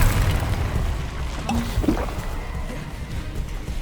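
A Bombarda spell blast in Hogwarts Legacy, a loud low boom at the start that trails into rumbling, sloshing debris and scattered magical effects, with no voices.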